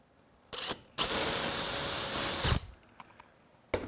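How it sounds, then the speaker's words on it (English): A power drill boring a hole in a metal top frame whirs for about a second and a half at steady high pitch, close up, preceded by a brief handling clatter and followed by quiet shop noise. "Go ahead and line up to drill that"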